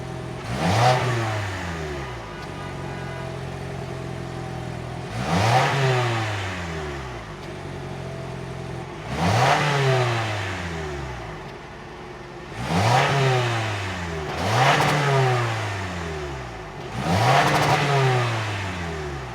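A 2025 Toyota RAV4's 2.5-liter naturally aspirated four-cylinder, with dual exhaust tips, revs repeatedly: five or six quick rises and falls in pitch over a steady idle, heard close with no talking.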